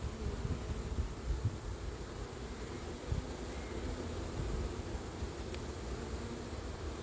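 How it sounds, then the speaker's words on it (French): A swarm of honeybees being hived near Marolles-en-Brie gives off a steady, soft buzz that runs the whole time, mixed with outdoor background noise. "le bel essaim"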